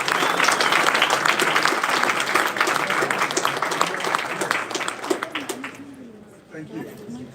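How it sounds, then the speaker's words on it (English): An audience at a VIS Moot court round of 32 applauds loudly, its dense clapping gradually thinning and fading toward the end, with a few birds cooing and chirping faintly in the background. "we need to give a huge applause to the University of Singapore"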